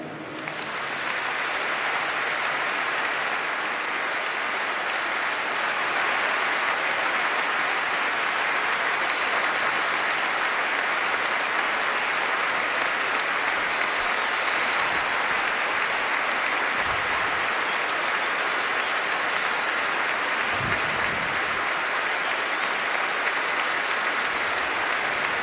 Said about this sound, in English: nous allons observer 1 minute d'applaudissements